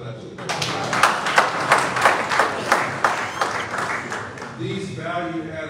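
An audience at an investment conference in Liberia claps in a scattered, moderately loud burst for about four seconds, and a speaking voice takes over as it dies away.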